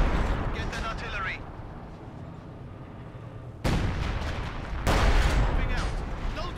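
Artillery booms and battlefield explosions in Company of Heroes 2, a dense, loud roar of gunfire with heavy blasts surging near the middle and the end, while game voices speak over it.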